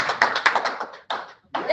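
A handful of people at a meeting clap in short, uneven bursts, a few distinct claps close by that stop, pause and start again.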